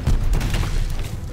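A vehicle blowing up in Call of Duty: Vanguard, a loud close boom with a rumbling low burst that fades within a second or so, no voices.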